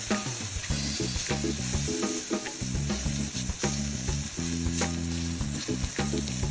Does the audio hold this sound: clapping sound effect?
no